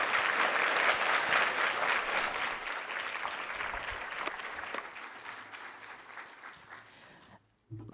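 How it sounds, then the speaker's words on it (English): An audience at a live festival-of-ideas talk applauds for Tom Tilley, with dense, sustained clapping that stays loud for most of the stretch, then gradually thins and drops away near the end. "give Tom Tilley a round of applause"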